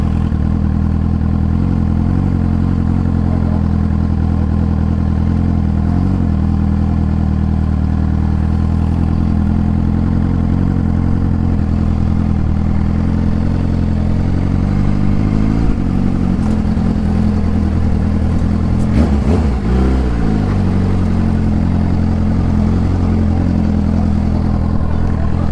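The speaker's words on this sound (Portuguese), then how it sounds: "a missão difícil passar de moto aqui" A Suzuki SRAD 750 motorcycle threads between trucks through stalled traffic during a roadside strike blockade, its engine a loud, steady, close drone for the whole stretch, with a brief rise in revs and clatter partway through.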